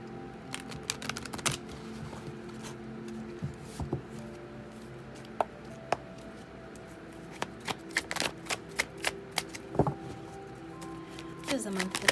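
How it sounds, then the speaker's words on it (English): Tarot cards being shuffled by hand in a steady run of crisp, close riffling and tapping that keeps on for the whole stretch. "Let me shuffle one more time."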